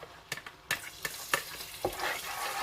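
Ginger-garlic paste sizzling and crackling in a hot pan, with a few sharp scraping stirs of a spoon against the pan.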